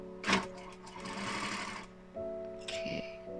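A sewing machine topstitches a thick French seam in quilting cotton, its motor whirring close in two runs with a brief slowdown between them.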